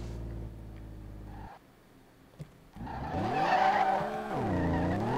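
A car engine in Street Legal Racing Redline strains and stutters, then revs up with a rising and falling harmonic whine that wavers as it labors, loud and close after a brief quiet gap.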